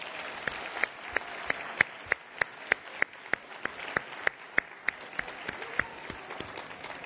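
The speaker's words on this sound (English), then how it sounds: "let's give them a big round of applause right now" An audience at a council president's introduction applauds, with a soft bed of crowd clapping under a few sharp, evenly spaced close claps that repeat in a regular rhythm.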